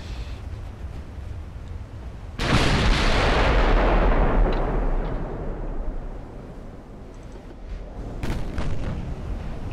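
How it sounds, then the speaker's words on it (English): A big ammunition detonation aboard the warship Prince Adalbert in the naval game Ultimate Admiral: Dreadnoughts. A sudden, deep, loud blast roars and then slowly fades, and a second boom follows near the end. "Ammo detonation on the Prince Adalbert."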